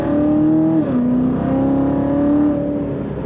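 A 2016 Chevrolet Corvette Z06 coupe, automatic, pulls hard on a highway, its engine note climbing through gear changes with a steady rising whine under a rushing cabin drone, no voices.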